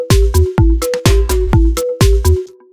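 A bright synthesizer arpeggio repeats in a tight looping pattern, short plucky notes stepping in even rhythm over deep bass hits, ending with a brief fade.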